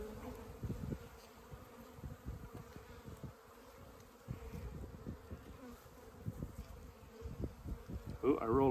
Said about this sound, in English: Ooh, I rolled a couple bees there